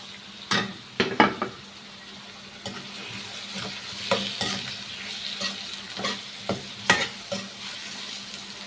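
Tomatoes sizzle steadily in a pan for Bahraini-style Arabic chicken rice, with a spoon scraping and knocking against the pan in irregular strokes, close and fairly quiet, no talking.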